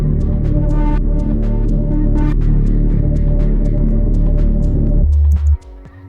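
Dark liquid drum and bass synth pads layered with heavy basses, a dense sustained low throb with airy high textures, loud and continuous before cutting off into a brief low tail.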